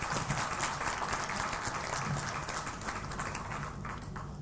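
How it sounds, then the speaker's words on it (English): Audience at an inauguration ceremony for a maternal and child health scheme applauds the dignitaries, a continuous, moderately distant roar of clapping that holds steady and eases slightly at the end. "Ladies and gentlemen, can we have a huge round of applause for our dignitaries?"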